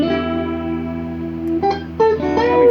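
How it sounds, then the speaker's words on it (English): A sustained electric guitar chord rings with a washy spring reverb from a TC Electronic Hall of Fame 2 pedal, followed by a couple of fresh plucked notes that bloom into the tail. "It's actually going to be a spring reverb off my Hall of Fame 2."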